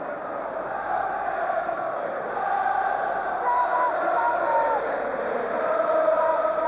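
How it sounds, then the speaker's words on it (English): A big Hibs football crowd roars and chants at a stadium during a match against Rangers, a continuous distant wall of cheering that swells slightly partway through. "So this Hibs crowd and full cry again, enjoying their carnival afternoon"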